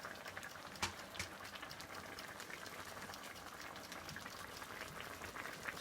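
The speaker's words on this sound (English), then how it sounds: "as it's boiling like this" Water boils in a pot with chicken and asparagus, a quiet steady bubbling fizz with scattered pops and one sharper knock, heard close without any talk.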